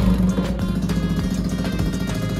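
A Yamaha R15 V4 motorcycle fitted with a bend pipe exhaust runs close by, giving a loud, rough, pulsing idle with a steady low rumble and small throttle blips, and no one speaks.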